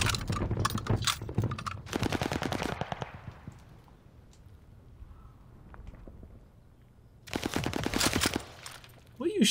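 Automatic and rapid gunfire from the Call of Duty: Vanguard video game, loud bursts of shots at the start and again near the end, separated by a quieter stretch of game ambience.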